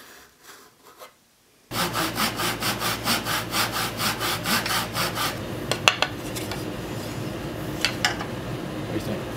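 Hand saw cutting fret slots into a wooden fretboard for a Fender-style guitar neck: after a short quiet pause, a steady run of rapid, evenly spaced rasping strokes, close and clear, followed by a few scattered knocks.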